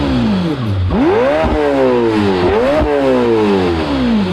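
A new Lamborghini Temerario twin-turbo V8, mounted on a small cart and built to rev to 10,000 RPM, is blipped repeatedly. Its loud, close, high-pitched howl swoops up and down in quick successive revs with no talking.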